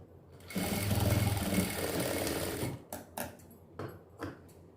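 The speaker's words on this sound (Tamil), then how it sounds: "தையல் போட்டு நம்ம சைட் ஜாயின் பண்ணுறோம்." A sewing machine stitching the side seam of a miniature doll dress runs in a fast, loud, close whir for about two seconds, then gives several short separate bursts of stitching.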